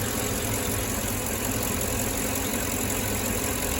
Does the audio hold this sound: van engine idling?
yes